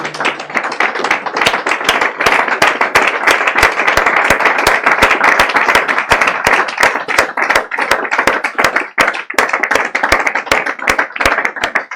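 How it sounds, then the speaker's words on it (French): Church congregation clapping in sustained, dense applause with sharp individual claps throughout, loud and close, no talk over it. "On va d'abord acclamer cette parole."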